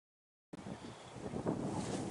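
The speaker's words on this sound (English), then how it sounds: "do you hear more or less wind?" Wind gusts buffeting a microphone outdoors, a steady rumbling roar that starts abruptly and swells slightly around the middle, close and fairly loud with no other clear sounds.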